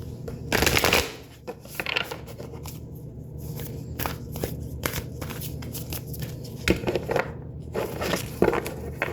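Astrology oracle cards being shuffled by hand before a card pull, a close series of crisp riffling and flapping bursts with brief pauses between them.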